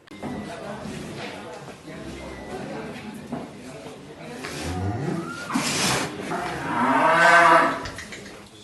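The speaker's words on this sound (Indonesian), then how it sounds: "Inilah jenis sapi simental yang merupakan hewan kurban dari Presiden Republik Indonesia Prabowo Subianto." Deep, drawn-out moos from a roughly one-ton Simmental cow, a sacrificial animal for Eid al-Adha, close by and loud, with the longest low call near the end over outdoor crowd noise and people talking.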